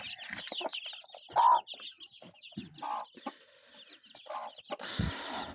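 Hen clucking softly among chicks settling under her, with short chirps and a sharper cackle midway, then a brief rustle near the end; close and fairly quiet.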